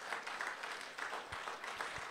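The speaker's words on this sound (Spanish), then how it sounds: "Dele ese aplauso al Señor Jesús" Church congregation applauding during a Spanish-language Christian worship service, a steady wash of many hands clapping at moderate volume with a few louder low thumps near the end.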